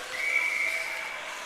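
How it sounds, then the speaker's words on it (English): Referee's whistle at a college ice hockey game, one sustained shrill blast of about a second over arena crowd noise. "And a whistle"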